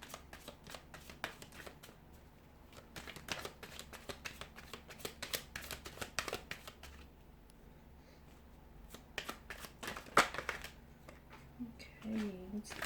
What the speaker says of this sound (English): So we'll go ahead and give the cards a shuffle.